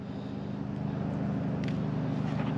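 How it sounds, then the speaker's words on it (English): A neighbor's lawn mower drones from a distance, a low, steady, slightly pulsing engine hum running throughout at a faint level without talk. "So excuse the noise, my neighbor's mowing"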